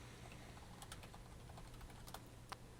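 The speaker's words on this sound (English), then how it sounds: "Yep, I'm typing to somebody again." Quick, light keystrokes on a computer keyboard, a scatter of soft clicks with a few sharper taps, faint and close over a low steady hum.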